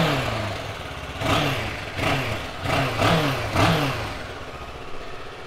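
A 2016 Kawasaki Versys 650 motorcycle, close by, starts up and settles into idle with about four short blips of the throttle, its engine rumbling steadily between them, no talking.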